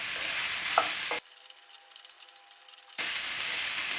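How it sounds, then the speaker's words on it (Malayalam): Chopped snake gourd sautéed and stirred in a hot pan sizzles steadily with a bright hiss, broken by a stretch of near silence in the middle before the frying noise resumes. "നമ്മൾക്ക് പടവലങ്ങ ചെറുതായിട്ടൊന്ന് വാട്ടിയെടുക്കണം"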